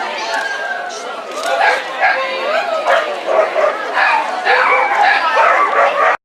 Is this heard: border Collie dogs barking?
yes